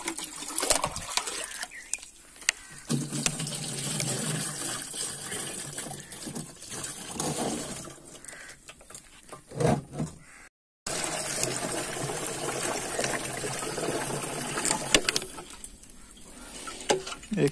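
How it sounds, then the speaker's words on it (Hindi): Water gushing from a pump into a container for mixing pesticide spray on a farm, a continuous loud pour that breaks off briefly and resumes, heard close outdoors. "पहला इंच पा लैने आ जी पानी थोड़ा जिहा"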